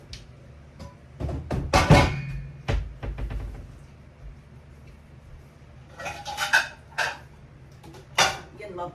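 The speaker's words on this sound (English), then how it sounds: "Getting my plates out." Plates and dishes clatter as a dishwasher in a mobile home kitchen is unloaded, with bursts of clinking ceramic, cupboard thuds and scraping set apart by quiet gaps.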